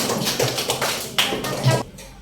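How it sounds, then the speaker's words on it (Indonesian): First-grade pupils at an elementary school clap in their classroom, a series of separate, fairly close hand claps with small gaps between them and little talk. "Tepuk tangan dong untuk kita semua"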